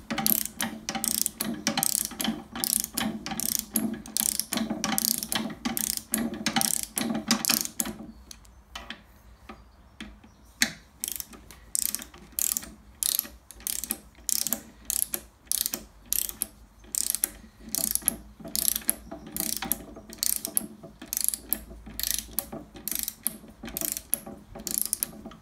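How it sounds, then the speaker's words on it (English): The ratchet on a torque wrench winds bolts into a Land Rover Defender MT-82 gearbox during a rebuild, producing loud, close, rapid ratcheting clicks in steady strokes, with a short pause partway through before the clicking resumes. "we'll just use the ratchet on the torque wrench just to wind that down in"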